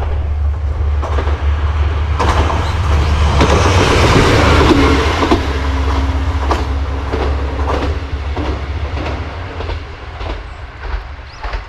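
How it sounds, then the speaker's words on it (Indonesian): A train in Japan rolls past close by with a loud, steady rumble and a rhythmic clatter of wheels over the rail joints, swelling in the middle and easing off toward the end, with no voices. "Ini ada kereta lewat guys,"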